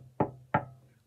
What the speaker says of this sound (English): The big bad wolf knocked on the first little pig's door.